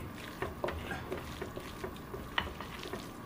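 Fresh crab meat being stirred and mixed in a container, soft wet squelching with irregular light clicks and taps of a utensil against the sides, close and quiet, with no talking.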